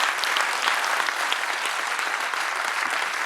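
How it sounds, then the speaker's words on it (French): Sustained audience applause at the opening of the Empire cinema, a dense steady clapping from a sizeable crowd that stays loud and even throughout, with no voices over it. "je vous demande d'applaudir bien fort tous les instigateurs du projet"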